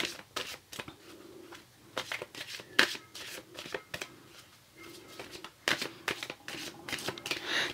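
Tarot cards are shuffled by hand in a series of quick, crisp riffling bursts, close and fairly quiet, repeating in irregular rhythm with brief pauses between.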